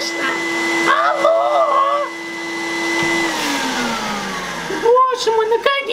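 A vacuum cleaner whines at a steady pitch, then winds down, with a voice speaking briefly over it and some bumps near the end.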